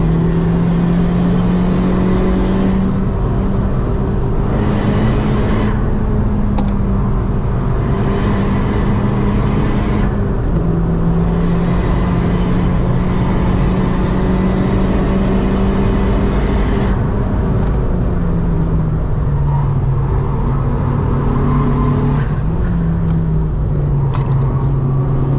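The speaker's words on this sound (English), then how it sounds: "What an engine! I mean, that is a really fun engine." Honda Civic Type-R FK2 engine on a lap of the Nürburgring, droning steadily loud and close throughout, with rising and falling revs and gear changes; no talking over it.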